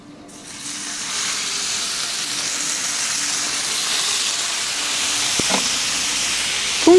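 Steak meat sizzles on a griddle in avocado oil, a loud, even, hissing roar that builds quickly and holds steady at close range with a faint clink near the end.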